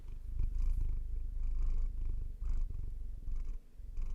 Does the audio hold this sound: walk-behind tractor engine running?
no